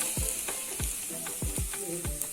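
Chopped onions softening in a hot pan are stirred repeatedly, each sweep of the spoon making a sharp scraping swish over a constant close sizzle, in an uneven rhythm of about seven strokes with no talking.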